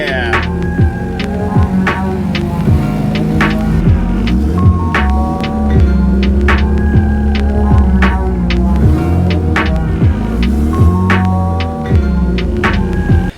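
A compound-turbo D16 Honda Civic with a blown turbo idles loud and close after startup, a rough throbbing engine note with uneven pulses and occasional revs.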